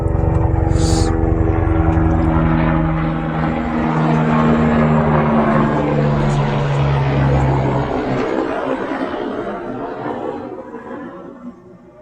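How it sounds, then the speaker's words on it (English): A loud, steady airplane engine roar holds for most of the time, low droning tones sliding slightly, then thinning and fading toward the end as the aircraft moves away. "The plane passing by."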